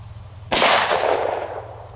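A handgun shot fired into ballistic gel at a test range: one sharp, loud, close report with an abrupt crack and a short decaying ring, with a low steady hum before it.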